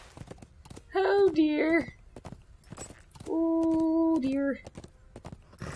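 Horse hooves clip-clop in steady rhythm in the LOTRO video game while the horse moves slowly with a broken leg, someone speaking briefly over the clopping.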